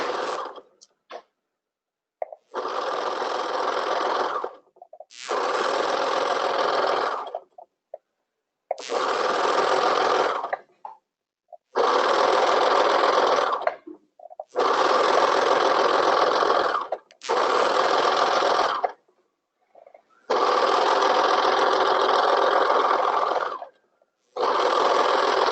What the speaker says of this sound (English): now I'm going to join my top edge together with serging